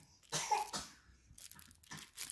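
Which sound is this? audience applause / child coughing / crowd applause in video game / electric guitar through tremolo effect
child coughing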